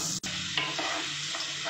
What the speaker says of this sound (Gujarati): અને ગોલ્ડન બ્રાઉન થાય ત્યાં સુધી સાંતળી લઈશું એને